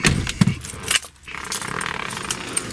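Keys of a 1991 Cadillac Brougham d'Elegance jangle close by in bright metallic bursts, with a brief pause midway before the rattling resumes and continues loosely to the end.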